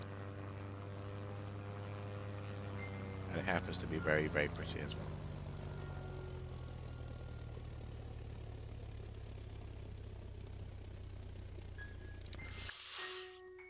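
Propeller aeroplane flying in the video game Skye: a steady droning engine hum with a low rumble runs throughout under a person talking, then cuts out near the end as a brief burst of noise follows.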